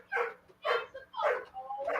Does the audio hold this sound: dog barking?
yes